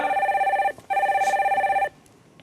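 A telephone rings twice in an electronic, warbling tone while a call is being connected on a Korean stock market call-in broadcast. The rings are close and clear, separated by a brief pause, and a quieter tail follows.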